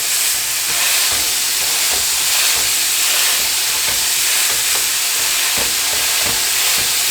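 Big burger patties fry on a griddle with a dense, continuous sizzle and bright hiss, steady and close, with a few soft scrapes and pops scattered through.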